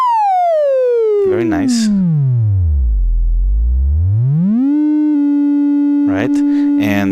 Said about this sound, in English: let's have a look at the sine wave for oscillator 1